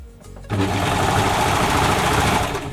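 A Brother 1034D overlocker runs steadily at speed, chaining off thread after a brief quiet start; the dense, even motor-and-needle whir stays loud and close to the end, with no voices.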